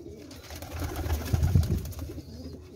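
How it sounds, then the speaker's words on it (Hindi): Cheena pigeons, a highflyer breed kept at home, coo softly and repeatedly in low, throaty rolling calls, close by, with faint background noise. "ये मेरे जी चीने हैं कबूतर।"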